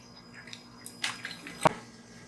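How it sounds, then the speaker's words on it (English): Nitrogen gas bubbles through aqueous waste behind a laboratory instrument in a solid phase extraction setup, giving faint irregular gurgles and drips with a few sharper liquid pops over a quiet hum. "you can hear the flow of the nitrogen going through the aqueous waste there behind the instrument."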